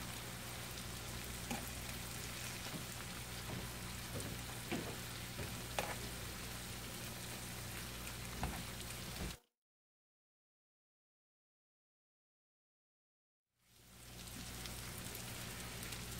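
Garlic shrimp sizzle and crackle in a frying pan as they are flipped, a steady close frying hiss that cuts out completely for a few seconds before resuming.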